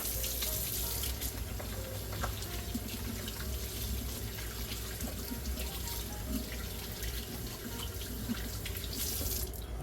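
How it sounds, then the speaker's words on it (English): Tap water runs steadily into a kitchen sink during hand washing before cooking collard greens, a continuous close splashing flow with no talking. "before we do this, I like to wash my hands"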